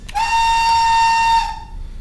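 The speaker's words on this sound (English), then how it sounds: "there are a couple of UK whistles, and one of them is the British Rail single chime" A British Rail single-chime whistle on a model locomotive blows once, clear and loud, holding steady for over a second before cutting off and fading.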